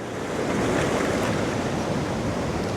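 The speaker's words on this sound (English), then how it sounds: "it's beautiful white water" Ocean waves breaking into white water on a coastline, a loud continuous roar of surf with wind buffeting the microphone, no voices.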